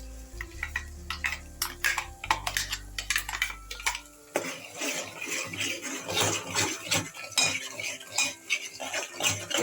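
Meal maker curry with tomato and onion cooks in a pan as a metal spoon clinks and scrapes repeatedly while stirring, over a faint frying hiss; no voices.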